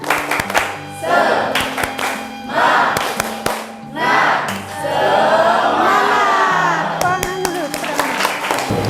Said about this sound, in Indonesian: Kita mulai ya, tepuk semangat